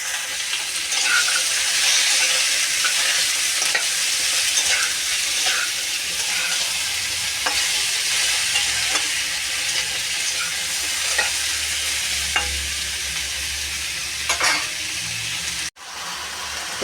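Vegetables with turmeric and chilli powder fry in a pan, a bright, steady sizzle running the whole time, with light, regular scrapes of stirring and a brief dropout near the end.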